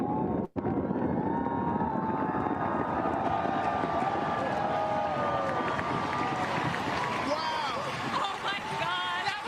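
A July 4th fireworks finale, billed as the largest display in U.S. history, roars as a dense, continuous wash of bursts and crackle blended with crowd noise and voices.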